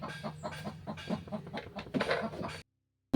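Soft, repeated clucking of a hen, several short calls in a loose rhythm, fairly close, ending abruptly in silence.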